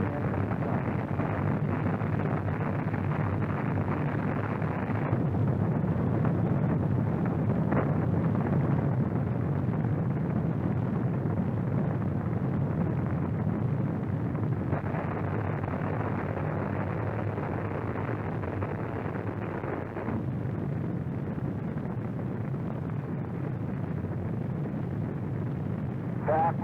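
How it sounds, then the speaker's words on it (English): Space Shuttle Columbia's main engines igniting at launch, a continuous, loud, broadband roar that holds steady for the whole stretch with no voices over it. "We have main engine start."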